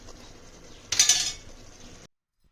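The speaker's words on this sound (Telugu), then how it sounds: "కలిపేసుకొని ఒకసారి మూత పెట్టాలి." A spoon stirs mutton biryani curry in a pot, then a lid goes on with a close, bright metallic clink and a brief rattle, over a steady low background hiss.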